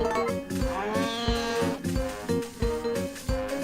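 Video game cow from Harvest Moon: A Wonderful Life lowing in a repeated synthesized moo with strong harmonic tones pulsing in a steady rhythm, close and clear, no speech.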